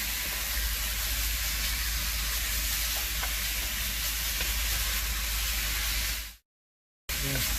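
Seasoned tri tip beef with salt, pepper, onion and garlic powder sizzles steadily while being stirred in a cast iron dutch oven, a continuous loud frying hiss with faint scraping, cutting off abruptly near the end.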